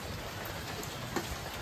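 Heavy rain falling steadily during a rainy night meal at home, a dense continuous hiss with occasional louder drops, fairly quiet and with no one talking.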